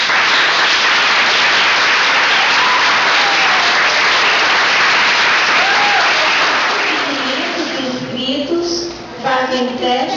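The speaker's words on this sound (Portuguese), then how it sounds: "Então, aplaudindo de pé." An audience on its feet gives a long standing ovation at a tribute to Luiz Gonzaga, with loud, dense clapping that thins out near the end as a voice begins speaking.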